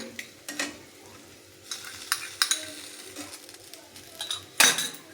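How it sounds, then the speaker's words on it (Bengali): A spoon stirs a fried cutlet filling with tomato sauce in a pan for a bread cutlet, giving a soft continuous sizzle with several close scraping and clinking strokes, the loudest near the end. "টমেটো সসটা দিয়ে পুরটাকে আর একটু ভালো করে আমি নেড়ে নেব"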